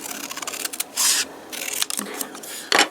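Scissors snip through paper while crafting a Littlest Pet Shop Halloween costume, giving short crisp cuts in bursts around the one-second mark and again near the end, close and fairly clear.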